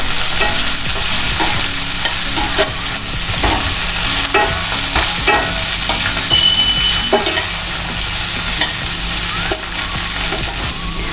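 Chopped onion, ginger and green chili fry loudly in oil in a pan for a shahi paneer gravy. A steady, dense sizzle runs throughout, broken by repeated scraping and stirring strokes of a spoon.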